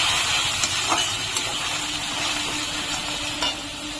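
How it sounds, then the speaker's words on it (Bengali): Onion paste stir-fries in a pan for a Kashmiri aloo dum, a steady close sizzling hiss with occasional soft scrapes of stirring. "দিয়ে দিচ্ছি পেঁয়াজ বাটা পেঁয়াজটা একদম ভালো করে কষিয়ে নেবো"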